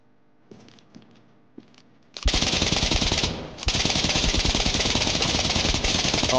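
Rapid automatic gunfire in the SCP: 5K video game, a dense, loud, continuous burst that briefly cuts out and then resumes, following a few quiet clicks and thumps.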